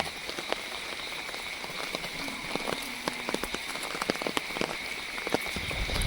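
Heavy monsoon rain pours over waterlogged ground on a rainy day in Gujarat, a dense, steady hiss of drops with scattered sharper splashes throughout and no voices.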